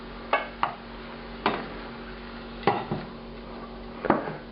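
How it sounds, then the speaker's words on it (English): Browned pork being moved from a pan into a bowl: a handful of sharp metallic scrapes and clinks from a utensil against cookware, spaced irregularly over a faint background hum. "We're going to transfer that over to a bowl."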